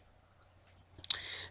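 Computer mouse clicks as a user selects a username box on a login screen, a couple of faint soft clicks followed by a louder, sharper click cluster near the end, close and quiet with no talking.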